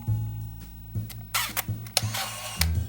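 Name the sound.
film point-and-shoot camera shutter firing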